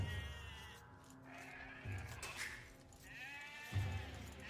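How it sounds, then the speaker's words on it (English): A sheep in the Age of Empires strategy game bleats in several short, wavering calls, faint and spaced out over soft background noise. "this sheep is so annoying"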